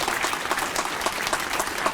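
Audience clapping at a 2023 school graduation ceremony, a brisk steady patter of many hands, fairly close and continuous.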